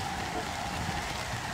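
Steady rain in Harvest Moon Light of Hope, an even, dense hiss of falling drops that holds constant throughout with no voices.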